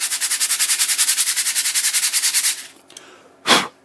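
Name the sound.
rubbing a movement tray on a homemade sanding block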